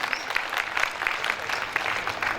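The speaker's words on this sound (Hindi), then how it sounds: "एक बार जोरदार ताली देके आदेश दीजिए।" Dense, steady applause from a large crowd at a live stage performance by Surendra Thakur, sustained and fairly loud throughout with no voices over it.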